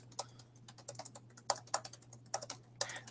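Computer keyboard keys typed in quick, uneven bursts of close clicks with short pauses between them, set against a faint steady hum and no voices.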